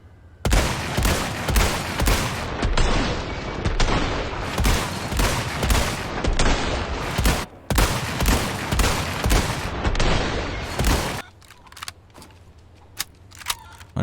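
Stingray rifle fired with full upgrades in Resident Evil 4 Remake, loud sharp shots cracking out in a steady spaced rhythm through most of the stretch, then a quieter reload with mechanical clicks and a few last isolated sounds.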